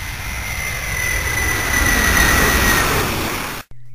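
Cartoon C-5 Galaxy military transport jet passing overhead, a loud roaring rush with a thin whine that swells and holds, then cuts off abruptly.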